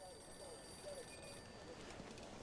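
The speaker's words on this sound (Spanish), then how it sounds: "nos despiertan como siempre a toque de teléfono" A telephone rings in a 1951 villa scene of the video game Mafia II, faint and repeating beneath a steady bed of game ambience.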